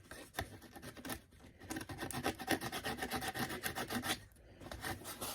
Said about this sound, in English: I normally get a bit of old sandpaper and just rough up where I'm going to solder.